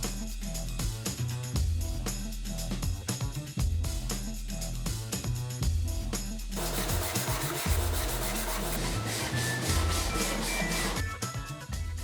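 Steady rhythmic scraping of sandpaper on wood, close up and continuous, with quick back-and-forth strokes and no talking.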